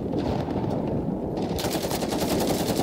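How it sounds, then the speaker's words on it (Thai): Automatic gunfire from Call of Duty Warzone in Rumble mode, a dense, continuous rattle of rapid shots that stays loud and steady throughout with no pauses. "ปืนไม่คมเลยยิงไม่ดีเองวะเรา"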